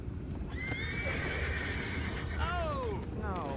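Horses neigh and whinny in the Red Dead Redemption 2 video game, two shrill calls over a low ambient rumble with soft hoof clops nearby.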